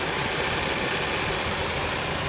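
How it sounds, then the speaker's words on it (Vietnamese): A 2010 Chevrolet Lacetti CDX automatic car engine idles smoothly and steadily, a continuous even hum with no stumbling or vibration, recorded close up with no talking. "Máy nổ êm, không rung giật."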